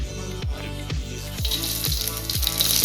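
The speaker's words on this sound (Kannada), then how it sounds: "ನೋಡಿ ಬಾಣಲೆಯಲ್ಲಿ ಎಣ್ಣೆ ಹಾಕಿದ್ದೀನಿ. ಎಣ್ಣೆ ಹಾಕಿದ ನಂತರ ಸಾಸಿವೆ ಹಾಕ್ತಾಯಿದ್ದೀನಿ." Mustard seeds crackle and sizzle in hot oil in a pan while a potato fry is cooked. A fizzing hiss swells louder toward the end, punctuated by regular low knocks about twice a second.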